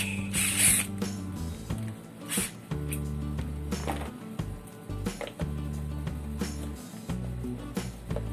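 A 12-volt Mitsushi cordless drill with a ratchet attachment, used as a socket wrench, gives repeated mechanical clicking and whirring in short runs broken by brief pauses.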